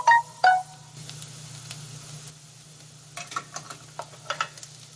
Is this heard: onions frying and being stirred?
yes